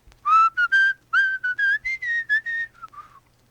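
A woman grocer whistles a bright, lilting tune of about a dozen clear notes in quick succession, close and alone, ending with a soft falling note.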